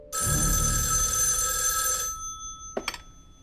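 A telephone bell rings loudly and continuously for about two seconds in a Hindi TV drama scene, then stops, followed by a couple of faint clicks as the receiver is picked up.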